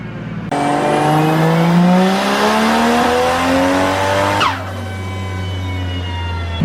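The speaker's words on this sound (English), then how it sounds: "That turbo comes on super hard." A turbocharged car revs hard on a dyno pull, its engine note climbing steadily in pitch for several seconds, loud and close, before the throttle cuts and it falls back to a lower, steady drone.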